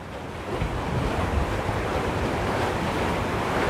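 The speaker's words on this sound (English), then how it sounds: "this storm looks like it's staying" Stormy wind and surf on the beach at Busselton, Western Australia, a loud continuous roar of gusting wind buffeting the microphone over crashing waves, steady throughout with no voices.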